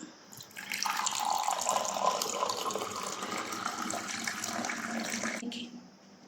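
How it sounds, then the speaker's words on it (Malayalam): Chilled water pours into glasses in a steady, close stream lasting about five seconds, then stops cleanly, with no talking. "ഇനി 2 ഗ്ലാസ് ഒഴിച്ച് നമുക്ക് കുടിക്കാം"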